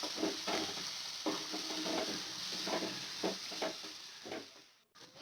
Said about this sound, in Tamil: இதை நல்லா நம்ம வதக்கினே இருக்கலாம்.